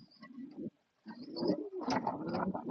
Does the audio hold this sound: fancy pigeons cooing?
yes